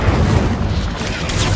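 A fire spell cast in the Hogwarts Legacy video game bursts out as a dense, loud, low-heavy whoosh and rumble. It holds steady for about a second and a half amid the game's battle noise.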